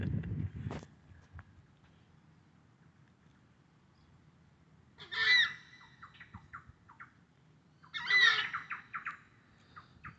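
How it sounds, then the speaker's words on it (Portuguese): Birds call across Lagoa Comprida lagoon in Aquidauana, Mato Grosso do Sul, Brazil, with two bursts of squawking, chirping calls a few seconds apart at moderate distance over quiet background, after a brief low thump at the start. "Olha, cheio de pássaros ali, ó."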